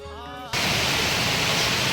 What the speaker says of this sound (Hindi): ये रह गया पीछे झरना